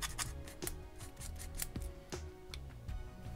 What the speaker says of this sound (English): The burr is removed by sanding or trimmed away using a scalpel.